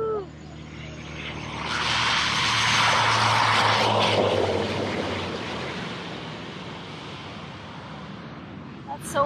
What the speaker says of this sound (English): there's the plane. It's landing.